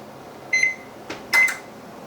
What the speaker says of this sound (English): I'm going to turn the oven on 350 degrees